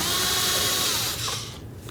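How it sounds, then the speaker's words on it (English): A hose clamp on the air inlet tube of a 2007-2013 Chevrolet Silverado 1500 5.3L V8 being loosened with a power tool, a steady loud whirring drive lasting over a second before cutting off, with faint clicks after. "We'll loosen this clamp."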